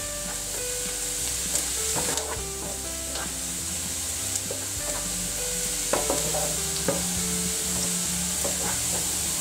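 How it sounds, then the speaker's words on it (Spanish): Garlic sizzling and frying in a pan while being stirred, a steady close hiss with scraping and clinks of the utensil against the pan throughout, no voices. "Hay que ir mezclando siempre para que el ajo no se nos queme"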